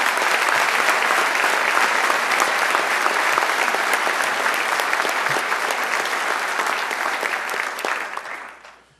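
A hall audience at a 2011 State of the City address applauds for the city fire department, a sustained, even wash of many hands clapping that carries on steadily and then fades out at the end.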